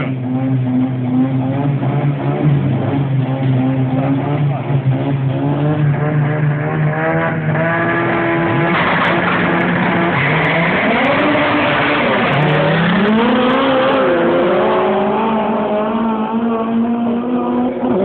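An Opel Corsa and a Ford Fiesta street race car accelerate hard at an Osijek street race, engines revving loudly and climbing through gears with shifts and a brief dip around the midpoint, sustained and close for the whole stretch.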